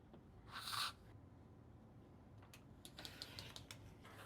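Cutting fabric for a quilt block with a rotary cutter against a ruler, a short quiet scraping pass followed by a few faint clicks and taps.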